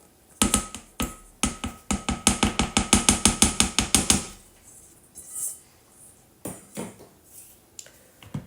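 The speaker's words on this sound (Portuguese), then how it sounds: "ou continuam a bater isto com a batedeira" An electric mixer beats red velvet crinkle cookie dough in a bowl, making a fast run of sharp rhythmic clacks and taps for several seconds, then scattered louder knocks and scrapes after it stops.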